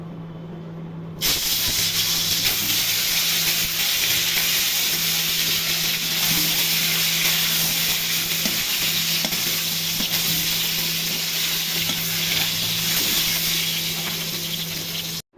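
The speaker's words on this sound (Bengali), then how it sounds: "তেল গরম হয়ে গেছে এখন ডিমগুলো ভাজবো" Eggs rubbed with turmeric and salt frying in hot oil give a loud, steady sizzle and hiss that starts abruptly and continues throughout, close and constant, with faint stirring scrapes and no talking.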